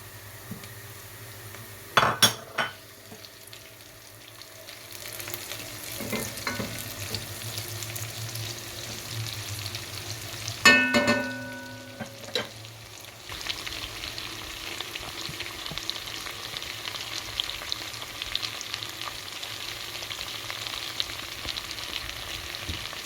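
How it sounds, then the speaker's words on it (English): Butter melting into golden simmered onions in a pan, a soft steady sizzle under sharp clinks of a utensil against the pot and occasional stirring scrapes. "See, the butter is now dissolving into the onions."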